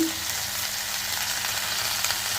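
Green chillies and cumin seeds sizzle steadily in hot oil, a close, dense frying hiss that holds evenly for a couple of seconds with a faint tap of a utensil near the end.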